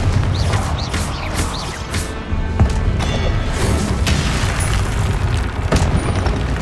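Confringo blasting spells explode in Hogwarts Legacy combat as repeated heavy booms and crashes burst over a loud, dense game soundscape, several impacts landing in quick succession across the stretch.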